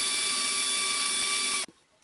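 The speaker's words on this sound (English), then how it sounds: "start your drill, and just sand it down" A power drill spinning a wooden dowel against a sanding block whirs at a steady high pitch for a moment with a faint scraping hiss, then cuts off abruptly into near silence.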